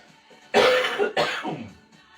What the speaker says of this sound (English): As you can hear, I've still got a bit of a cough